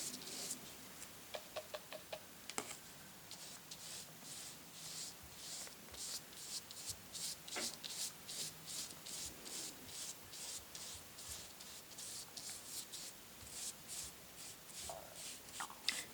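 Paint is rubbed away from waxed areas of a picture with steady, rhythmic scrubbing strokes, soft and close, repeating through most of the clip after a few light taps at the start.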